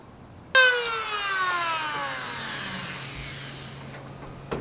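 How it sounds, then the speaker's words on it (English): A power tool roughs up the edge of a cracked motorcycle fairing, starting with a sharp whirring burst and then winding down with a steadily falling whine, ending in a small click, nearby with no talking. "before we do any of that stuff we need to rough the edge up."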